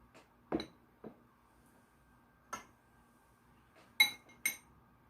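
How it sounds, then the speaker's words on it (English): Scattered clinks of dishes and cutlery as Instant Pot beef stew with potatoes and carrots is plated, with about six sharp, fairly quiet knocks and rings separated by pauses. "we're going to go ahead and plate that up"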